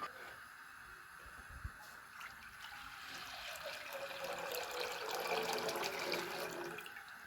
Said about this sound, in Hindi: अब इसमें दूध डालेंगे।